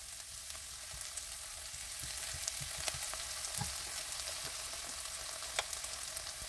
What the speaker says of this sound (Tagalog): Ilagay ang white part ng spring onion at igisa ng 1 minuto.